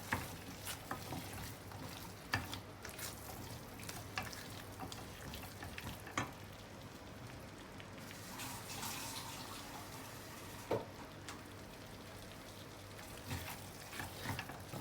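Quiet sizzle and scraping of a spoon stirring vegetarian fish sambal with tomato and pandan leaves in a pan, a soft steady fry with occasional clinks.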